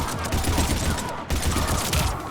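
Dense, rapid gunfire in the game Mass Effect 3 during a firefight against Cerberus troops on Mars, loud and continuous with a brief break midway.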